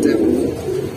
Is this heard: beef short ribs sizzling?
no